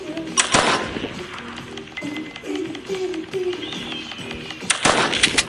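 Gunshots in the video game Granny 2: a couple of sharp, loud shots stand out against a busy game background, with some talking underneath.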